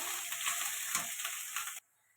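Ground turmeric, chilli, cumin and coriander masala frying in oil for a fish curry, a soft close sizzle with light stirring that cuts off abruptly toward the end.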